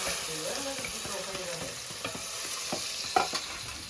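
Chopped garlic and onion frying in a pan with masala spices, a soft continuous sizzle with scattered stirring scrapes and a few light clinks, fairly quiet and without talk.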